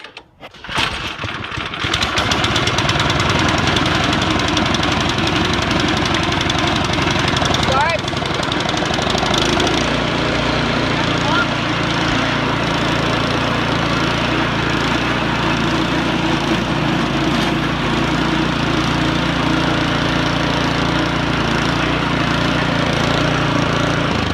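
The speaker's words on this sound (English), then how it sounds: "When it begins running, and it goes brrrm, brrrm." A Troy-Bilt two-stage snow blower engine cranks and catches, then runs at a loud, steady chugging roar throughout, with people talking over it.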